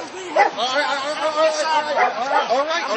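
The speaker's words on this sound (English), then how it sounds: "Oh, there are the dogs." German Shepherd police dogs bark and yip in a dense, continuous burst of overlapping calls after a G20 protest, fairly close and loud, with voices talking over them throughout.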